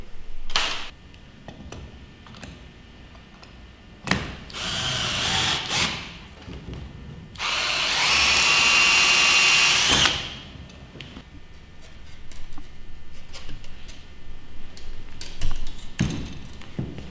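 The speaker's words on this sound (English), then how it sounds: "we're going to take our quarter inch drill bit. We're going to drill 5 holes across through this" A power drill with a quarter-inch bit whines in short bursts with one longer steady run, drilling holes while building a black vulture effigy, separated by clicks and light handling noises, close by.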